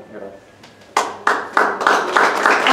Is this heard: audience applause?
yes